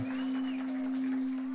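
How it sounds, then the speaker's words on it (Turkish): A crowd claps continuously at a circumcision celebration in Wetzlar, a dense wash of applause over a loud, steady electronic hum. "Yüksek bir alkış gelsin."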